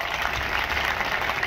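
An audience at a public welcome event in Mandsaur, India claps steadily, a dense, even wash of applause that fills the whole moment without pause.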